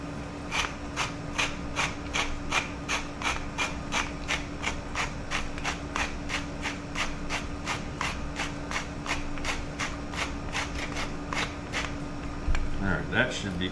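A dirty salt or pepper grinder is turned by hand, giving a steady run of crisp rasping clicks at an even, quick rhythm. The grinding continues close up for several seconds, with faint background noise.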